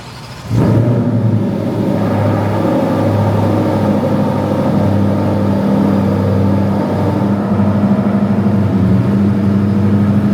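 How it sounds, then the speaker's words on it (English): A Ford Mustang GTD lowering its ride height gives a sudden start, then a loud, steady mechanical hum and low whine with a constant engine drone underneath. It keeps going close by for about ten seconds, with no talking. "We're gonna demonstrate the ride height change on the GTD."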